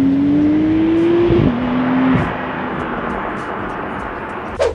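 A new Porsche 911 engine in Sport Plus mode drones loudly at steady revs, then drops pitch as it shifts, settling into a quieter hum with faint mechanical ticks.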